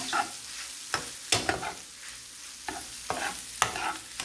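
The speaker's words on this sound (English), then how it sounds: "You don't want to burn the eggs, so it's just pretty much scrambling the eggs" Eggs scramble with mushrooms and onions in a frying pan: a soft background sizzle punctuated by about eight crisp spatula taps and scrapes against the pan, close and fairly quiet.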